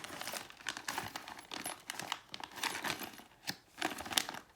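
Crinkling of plastic parts bags from an XRAY XB2C 2022 Edition RC buggy kit, a close, busy run of crackles and rustles with a few sharper snaps, no talking.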